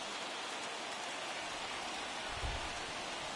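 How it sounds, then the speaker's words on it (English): Steady, even rain hisses down in The Show 21 baseball video game, a continuous broadband patter that holds constant throughout, with a brief low thump near the end. "the rain's starting to intensify here. It's coming down a little heavier now."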